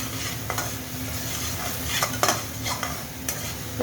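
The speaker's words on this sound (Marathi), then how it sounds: "एक मिनिटभर चांगलं परतून घ्यायचं मिडियम गॅस करून" Vegetables sautéing in oil in a kadhai over medium flame: a steady, close frying sizzle with a few sharp spatula scrapes against the pan, no voices.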